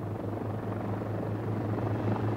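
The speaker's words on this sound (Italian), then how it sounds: "Quando Cousteau con la sua cinepresa sale sull'elicottero" Steady, loud drone of a helicopter in flight in fine weather, carrying a film crew above the Marquesas islands; a low continuous rotor hum with engine noise, constant throughout, with no talk.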